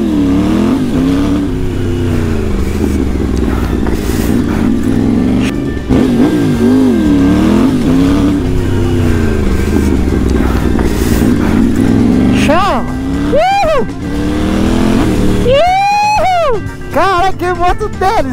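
A loud motorcycle engine revs up and down in rising and falling sweeps while people talk excitedly over it, with sharper high-pitched revs near the end.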